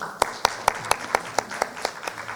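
Clapping from the audience at an academic society's winter conference award ceremony: evenly spaced, rhythmic claps, roughly four per second, sounding fairly close and crisp against a quiet room.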